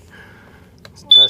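A MTI Safe-T-Alert propane gas leak detector in an RV gives a loud, sharp, steady high-pitched test beep near the end, after a quiet stretch with faint low background noise.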